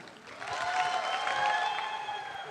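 Audience applause welcoming a dance group onto the stage at a talent show finale, swelling after a brief moment and holding steady, with some tonal stage sound mixed underneath.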